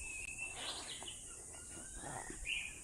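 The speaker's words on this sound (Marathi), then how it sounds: "तुम्ही आवाज बघा पक्ष्यांचे." Birds call in the quiet of a forest cashew orchard, a few thin chirps and short whistles rising faint and distant over a soft steady hum of insects.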